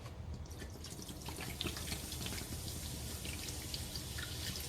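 Quiet liquid pouring and trickling with faint fizzy drips as 7-Up soda fills the bottom of a roasting pan, steady and close, with no voices.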